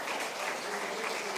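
A congregation at a Pentecostal church service in Campinas claps loudly and steadily, a thick, even wall of applause from many hands with no pauses.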